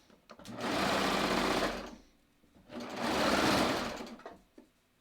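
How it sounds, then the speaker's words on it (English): A sewing machine runs in two long bursts, stitching a straight seam across a dress lining. Each run lasts roughly a second and a half, with a short pause between them and no talk. "I'm just sewing straight across."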